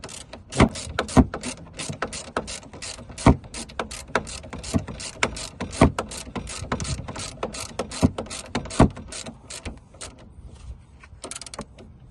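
Ratchet clicking as it turns the anti-roll bar linkage nut on a Peugeot 207, close and loud, with a long run of quick irregular clicks and short pauses between bursts, no talking.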